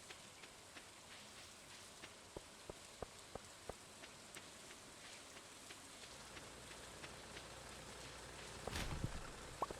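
Soft steady rainfall in the farming video game Stardew Valley, a faint even hiss dotted with small sharp drip ticks, growing slightly heavier near the end, with no voices.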